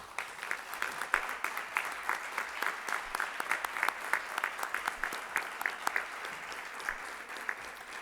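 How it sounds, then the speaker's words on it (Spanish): Steady audience applause at an academic panel on forty years of democracy, many hands clapping densely and evenly across the whole stretch with no voices over it. "Si les parece, compartimos un aplauso."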